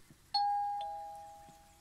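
A doorbell in the video game Umfend, a single bright electronic chime that strikes once and rings out in a clean, slowly fading tone against a quiet background.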